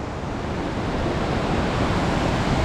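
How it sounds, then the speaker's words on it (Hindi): A waterfall on the Kheerganga trek pours as a dense, steady rush of water, close and constant for a few seconds with no voices. "ओए गाइस ये रहा वाटरफॉल, देखिए व्यू"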